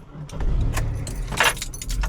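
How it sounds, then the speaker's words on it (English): Keys jangle close by and a car's engine cranks and catches, running on as a low rumble beneath the clinking; no one speaks. "Starts up without a problem."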